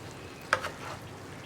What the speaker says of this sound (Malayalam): പയറൊന്ന് ഇളക്കി കൊടുക്കുക.